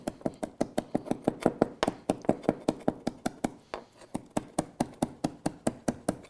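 A knife chops chives for deviled eggs on a cutting board, a brisk, even run of close sharp taps with a short pause midway, no talking.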